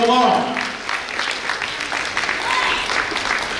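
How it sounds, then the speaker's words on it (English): Audience applause at a felicitation after a stage performance, a steady broad wash of clapping from a crowd filling the short stretch, loud and continuous with some voices mixed in. "A big round of applause, come on."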